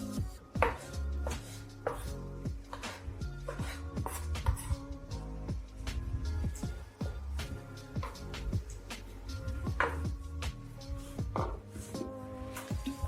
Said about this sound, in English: Then I'll cut the plum freely as well